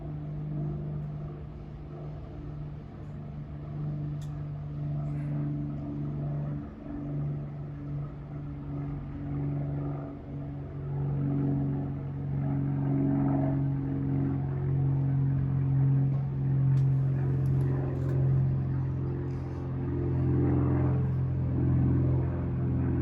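Steady low traffic rumble of cars passing outside fills the whole stretch, swelling and easing gently as vehicles go by at a distance, with no talk over it.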